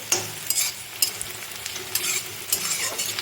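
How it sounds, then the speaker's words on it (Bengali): Onions fry on a low flame for biryani, a close sizzle broken by short bursts of spoon-stirring scrapes against the pan. No one speaks. "সেইভাবে তোমরা পেঁয়াজটা ভালো করে ভেজে নেবে"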